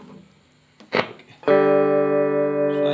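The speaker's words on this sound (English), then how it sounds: "So I guess this is the minimal distortion you can get." Ibanez Artist series AR 220 electric guitar through a Peavey Studio Pro 112 Transtube amp with minimal distortion: a couple of muted pick scrapes, then one loud sustained chord ringing with rich harmonics.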